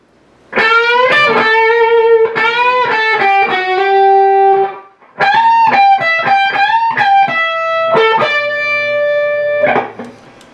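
Electric guitar lick with bent notes that slide upward in pitch, played in two loud, close phrases separated by a short gap.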